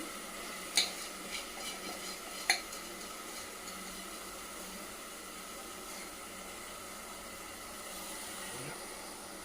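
Soaked rice is tipped into green pulao in a pressure cooker along with cashews and raisins, giving a steady soft sizzle and hiss with two sharp metallic clinks of the spoon early on.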